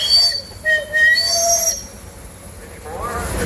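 At an outdoor steam engine and tractor show parade, a restored steam portable engine's whistle gives a few short, moderately distant toots over crowd and engine noise, ending with a rising tone.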